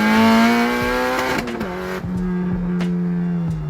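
A Nissan 240SX S13 with a fully built SR engine revs hard, a loud, close, raspy engine note holding high and dipping briefly between blips before settling at a sustained drone.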